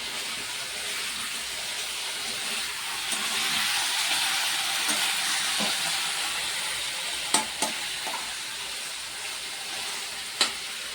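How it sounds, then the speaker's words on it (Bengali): Chicken fries in a pan with a steady, close sizzle and hiss, broken by a few sharp clicks and utensil taps, and no voices. "কি হয়েছে চিকেন ভাজা"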